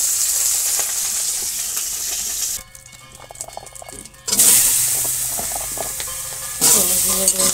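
Fried koi and magur fish placed into a hot kadai in a village kitchen, with loud steady sizzling and oil crackle that briefly drops away, then surges back loudly.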